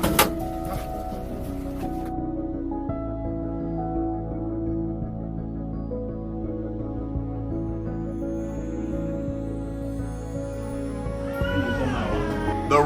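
A cat trapped in trouble in a cramped, dark space meows repeatedly over a steady tonal background, its cries becoming more insistent near the end.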